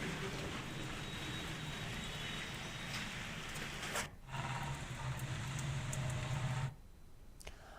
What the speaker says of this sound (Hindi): पूरे दिन रिमझिम बारिश का दौर चलता रहा।